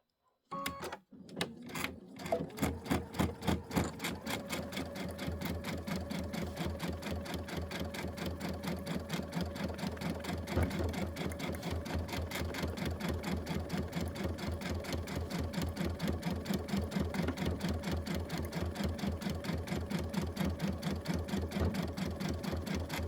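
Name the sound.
OESD embroidery sewing machine stitching tile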